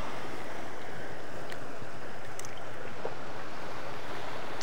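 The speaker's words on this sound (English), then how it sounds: "good consistent waves up here." Steady broadband roar of surf waves washing onto Itoshima beach in Japan, a continuous wash of breaking water with wind, heard alone without voices.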